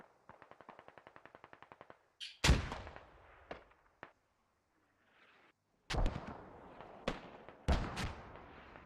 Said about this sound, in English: Not sure where those mortars are going actually.